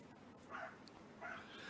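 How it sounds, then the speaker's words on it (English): A dog barks from outside on a balcony, two muffled, moderately distant bursts separated by a pause over a steady low background hum. "Listen to my dog. He's so upset right."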